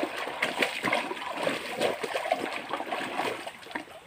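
The Pasak River flows and splashes nearby in a continuous babbling stream, with irregular gurgles and small surges.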